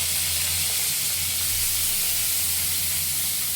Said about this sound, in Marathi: तर सर्वात आधी मी स्प्रिंग अनियन कढईमध्ये घालणार आहे.